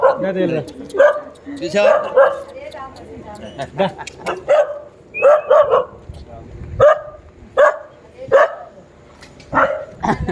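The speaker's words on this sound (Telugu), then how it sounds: "కుక్క" A dog barks repeatedly in short yips and bow-wows, close and loud, with a person talking in between.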